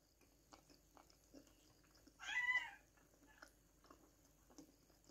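A domestic cat gives a single clear meow near the microphone in a quiet indoor room, with faint clinks and small household sounds around it.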